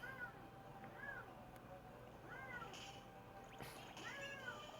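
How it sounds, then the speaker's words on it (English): A pet cat gives several short meows at a moderate distance, spaced a second or two apart, over steady background noise from a Kingdom Hearts game. "Sorry, guys, my cat."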